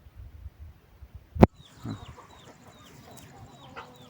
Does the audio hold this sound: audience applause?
no